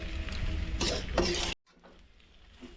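Pasta mixed with coriander and spring onion being stirred in a bowl, scraping and clinking of a utensil in scattered bursts, then a sudden drop to near silence with faint soft clatter.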